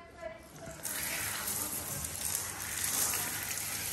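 Water from a shower in a house bathroom runs steadily, a broad hissing spray that rises after a quieter start and stays even, with faint background voices underneath.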